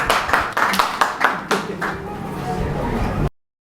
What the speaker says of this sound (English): Let's give a round of applause for our representative to cheer them up.